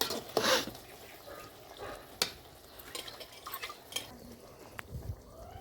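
Tamarind water being stirred into a curry in a pot in a village kitchen, giving soft scraping and sloshing sounds with a few sharper clinks of the spoon against the pot, fairly quiet and with no talking.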